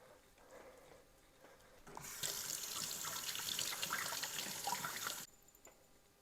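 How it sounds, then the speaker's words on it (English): Water runs from a kitchen tap as hands are washed, a soft steady splashing stream that starts after a couple of seconds, lasts about three seconds, then cuts off, heard faintly and close. "Then I'm going to wash my hands so I can handle my seasonings."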